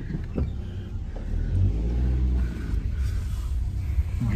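Engine of a new Maruti Suzuki Swift car rumbling and revving steadily from inside the cab, a low continuous drone that swells slightly midway, with no talking.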